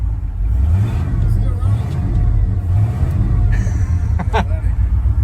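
A 1990 Ford F150 with a 351 V8 idles roughly, its loud low rumble swelling slightly with throttle, while voices are heard over it.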